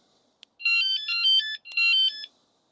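Two bursts of a bright electronic chirping tone play one after another, loud and close, after a short click, from a Vanolarm van alarm arming.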